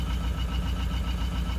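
Cold car engine with a cracked piston idling just after a start, a steady low rumble with rhythmic exhaust chuffing at the tailpipe, continuous and fairly close, with no talk.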